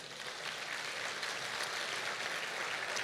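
A church congregation applauds together, a steady, fairly soft wash of many hands clapping that stays even from start to finish without speech.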